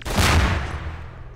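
Automatic gunfire in Half-Life 2 erupts as one loud burst with a heavy low boom, then decays over about a second.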